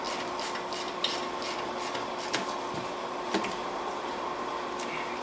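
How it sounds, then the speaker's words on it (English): A ratchet tightening brake bolts on a 2010 Kia Rondo, with faint, rapid clicking strokes over a dull, steady background. "now you can tighten it up with the ratchet"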